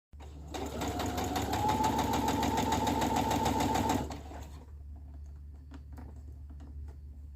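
A sewing machine stitches a seam on a blouse sleeve, a fast, steady mechanical rattle for about four seconds that then stops, followed by quiet handling sounds.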